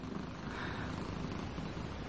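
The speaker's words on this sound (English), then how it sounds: "do you hear my cat purring right now?" Pet cat purring close up, a soft continuous rumbling purr with no talk over it.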